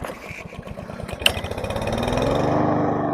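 A small TB200 engine, its carbon cleaned with spray, runs steadily close by, a rough buzzing drone that swells slightly louder toward the end, with one sharp click partway through.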